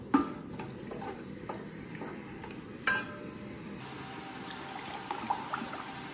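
Sliced onion stirring and frying in a little oil in a pan, with a soft steady sizzle, light scraping stirs and a few clinks of the utensil against the pan, close by and without talk.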